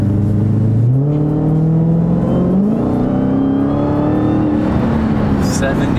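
A Dodge Hellcat accelerating hard, its engine note climbing steadily in pitch through a gear change, loud and close from inside the car, with people talking over it.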